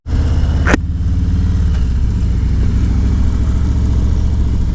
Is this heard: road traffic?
yes